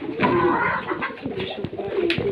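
Pet pigeons cooing close by in a continuous run of soft, throaty calls, with a couple of faint clicks and rustles in the background.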